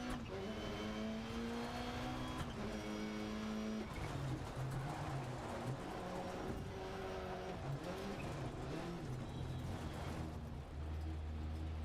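Rally car in Dirt Rally 2.0 sliding sideways on a loose surface, engine revving up and down through gear shifts with gritty tyre and gravel noise underneath, loud and continuous with no talking.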